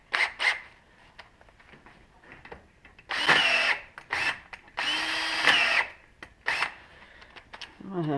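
A power drill whines in several short bursts, one loud sustained run in the middle and briefer stops and starts around it, close and prominent with pauses of quiet between, while working on a washer turbine.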